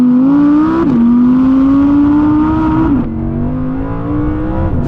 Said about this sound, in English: here's a quick montage of some Audi R8 V10 rear-wheel drive noises